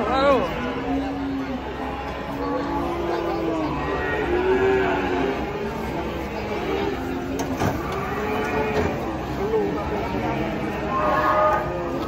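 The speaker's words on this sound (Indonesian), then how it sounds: "Kita lupa ya tadi sapi ngamuk apa sapi apa ini?" Cattle lowing in a farm setting, several drawn-out moos repeating through the scene amid a busy background of people chattering and talking nearby.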